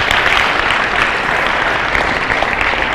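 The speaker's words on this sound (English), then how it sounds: "a big round of applause for the teachers as well" Loud, dense applause from a school audience at a TEDx talk, steady clapping for teachers throughout with no voices standing out.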